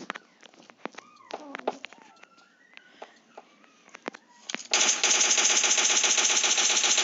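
Gunfire rings out in a zombie-mode shooter game. Scattered single shots and clicks come first, then a loud, sustained rapid burst of automatic fire fills the last two seconds.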